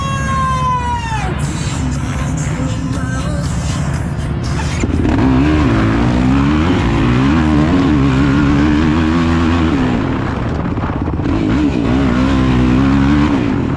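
Off-road race vehicles revving at the start of an Extreme XC race, first a falling whine, then a loud massed engine roar that swells as the field launches, with continuous layered buzzing engines close by.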